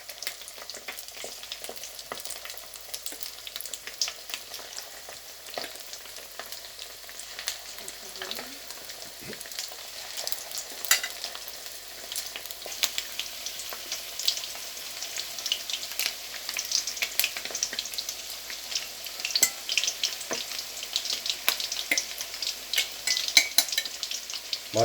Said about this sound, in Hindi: कढ़ाई में ऐड करके उसी तरीके से इनको फिर मैं पकाऊँगा